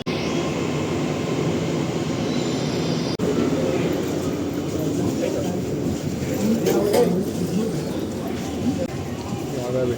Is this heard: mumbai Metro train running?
yes